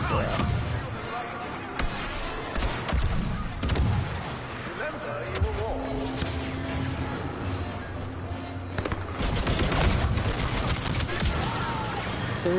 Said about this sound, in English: I can shoot them through the grass.